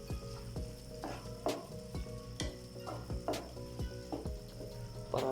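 Creamy bihon noodles stir-fried in a pan, a steady close sizzle broken by repeated scraping clatters of a utensil turning the noodles, about once a second, with no talk.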